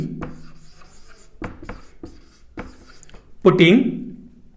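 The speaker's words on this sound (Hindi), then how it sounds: "चलिए तो हम लोग यहाँ पे लिखते हैं" A maths solution is written out by hand in a few short, scratchy strokes, spaced irregularly. A brief voice rises near the end.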